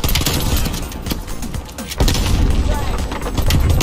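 Continuous gunfire in a Call of Duty match, a dense, loud rattle of shots and booms that barely lets up, with a player talking over it.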